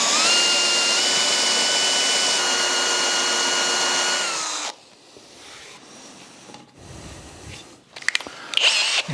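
Power drill with a blunt Forstner bit boring into end grain wood on a workbench build: a loud sustained motor whine and grinding for several seconds, then the drill stops, followed by quieter handling clatter and a few sharp knocks.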